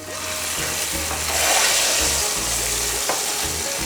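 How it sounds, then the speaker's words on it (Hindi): Onions frying in ghee for a Karachi-style nihari tadka, sizzling steadily and loudly up close with occasional stirring scrapes, no talk. "मैंने थोड़े से अनियंस को जो है ना घी में मैंने फ्राई किया"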